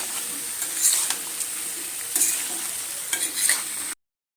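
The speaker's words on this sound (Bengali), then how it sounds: "আলুগুলো সুন্দর করে নেড়ে চেড়ে আমি লাল লাল করে ভেজে নিয়েছি" Potatoes seasoned with salt and turmeric stirred and frying in a pan, a steady sizzle with intermittent scraping stir strokes, close and alone.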